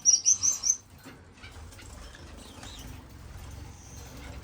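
Finches in an indoor bird room give a burst of bright, rapid chirps at the start, then a quieter stretch of faint scattered calls and rustling.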